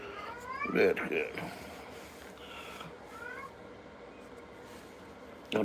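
House cats give two distinct meows, a louder one early and a softer one a few seconds later, close by, with a person talking faintly and some rubbing noise in the background.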